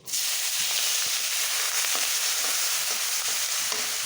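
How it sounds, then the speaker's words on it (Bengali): Chopped onions and slit green chillies fry in hot oil with cardamom and cloves, a loud, steady, close sizzle that swells at the start and crackles continuously with small scraping stirs throughout. "দিয়ে ভালো করে ভেজে নেব। ভালো করে ভেজে নিচ্ছি। একটু নেড়ে দেব।"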